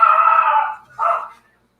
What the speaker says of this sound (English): No, it's my dog.